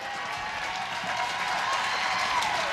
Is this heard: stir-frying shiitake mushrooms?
no